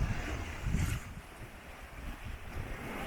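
Sailboat under sail off the east coast of Corsica, with a rushing wash of wind and water around the hull, gusts buffeting the microphone, and no voices.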